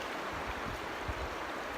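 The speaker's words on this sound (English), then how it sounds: "listen to the sound of the river. Imagine the water as it flows by you," Steady broadband rush of river water flowing past a rock, an even, continuous wash with soft low gurgles, fairly quiet and close, with no voices.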